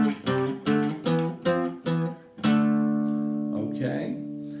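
Medieval organum played as two parallel sustained lines over a plainchant melody on a keyboard-like instrument, several short detached notes followed by longer held tones, clear and close.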